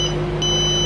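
A steady, high multimeter continuity beep on connector pins of a Honda S2000 sounds continuously with a brief break partway through.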